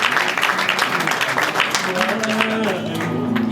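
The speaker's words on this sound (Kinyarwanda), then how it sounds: "Amashyi menshi." A wedding crowd claps steadily, a dense, loud patter that carries through the whole stretch while voices speak and call out over it.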